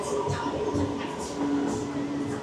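A metro train rolls in with a steady rumble and tonal whine, airy hisses rising and falling over it, close and loud.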